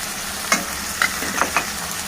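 Salted vegetable curry of tomato, yam and flat beans being stirred in a pan sizzles steadily, and four distinct scrapes of a spatula against the pan cut through the hiss.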